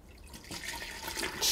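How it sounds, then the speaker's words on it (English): Soup liquid for pasta fagioli pours from a deep pressure cooker through a conical strainer, a soft steady watery trickle and splash that swells louder near the end, with no voices. "strain my liquid"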